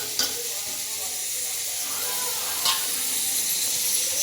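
Sliced peeled boiled eggs go into gravy simmering in a pan, giving a steady soft sizzle and bubbling hiss with a couple of faint clinks, no voices.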